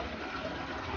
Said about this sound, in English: I'm gonna try to dump the water into the sink